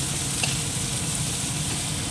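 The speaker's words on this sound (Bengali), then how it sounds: "তেল পেঁয়াজটা ভাজা দিয়ে দিই" Onions frying in hot oil in a home kitchen pan, a steady close sizzle with a faint crackle, continuous and even throughout.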